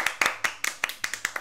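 Hand clapping in a quick, even forró-style rhythm, with about ten sharp, close claps over a second and a half and no voices.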